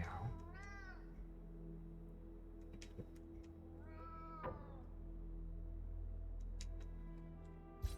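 Cat meows come from the video game Moonscars, two distinct drawn-out calls about four seconds apart, heard over a steady low hum and scattered clicks.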